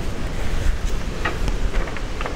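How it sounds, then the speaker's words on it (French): Wind buffets an outdoor microphone in steady low rumbling gusts, with a few brief higher crackles, filling the whole short stretch without any voice. "Le vent se lève. J'espère que côté micro, ça va aller."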